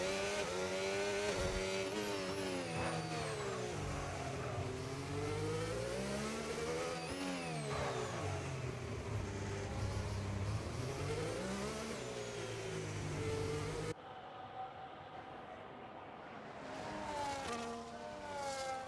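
Rally cars racing on a Monaco stage, engines revving hard and rising and falling through gear changes, loud and close, with the noise continuing at a lower level near the end.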